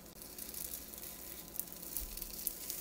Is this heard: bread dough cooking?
yes